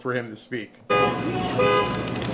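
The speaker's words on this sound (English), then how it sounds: "the noise you hear in the background is somebody triggered their car alarm to go off" A car alarm goes off nearby after a short stretch of speech, a loud and steady electronic wailing that continues to the end.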